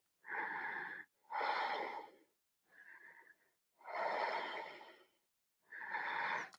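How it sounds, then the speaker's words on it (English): Deep, slow breaths held in a seated yoga twist during a vinyasa flow, forming five distinct rushing breath sounds with brief silences between them. They are close-miked and slightly wheezy, with no speech. "Two more deep breaths."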